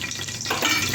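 Bay leaf and whole spices dropped into hot oil in a cooker for seeragasamba mutton biryani, a short close burst of bright crackling sizzle that swells midway.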